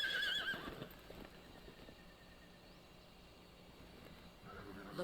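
A horse whinnies loudly at the start in the video game Metal Gear Solid Delta: Snake Eater, its high wavering call fading into a quiet ambient background before more faint sounds return near the end.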